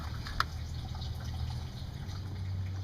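Old coolant from a Honda Element drains in a faint, steady trickle of liquid, with a single soft drip early on over a low background hum.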